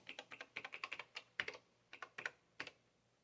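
Rapid typing on a VT220 clone terminal keyboard, a steady run of close, crisp key clicks at an uneven rhythm, quiet and alone without talk.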